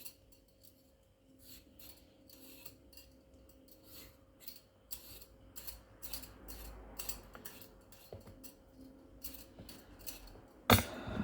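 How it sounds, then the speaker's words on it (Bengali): A potato being peeled by hand with a knife, giving soft, close scraping and rasping strokes in an irregular rhythm, quiet and without talk, ending in a sharp clatter. "আলুটা ছিলে দিলাম"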